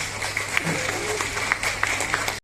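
Scattered audience applause at a public function, moderately loud and a little uneven, with individual claps standing out over a steady low hum before it cuts off abruptly.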